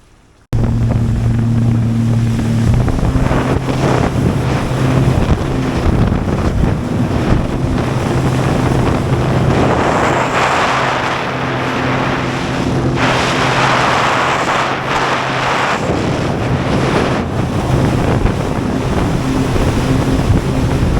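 A Sea-Doo RXT 325 jet ski speeding across the sea, its engine drone loud and continuous with wind buffeting the microphone and hull slapping on waves, pitch shifting as the throttle changes.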